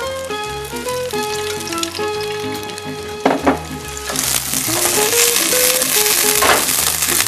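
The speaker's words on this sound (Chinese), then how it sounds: "锅子还是热的状态的时候，我们把芹菜放进来，" Celery is dropped into hot oil in a wok and sets off a loud, hissing sizzle that swells midway and carries on steadily over background music.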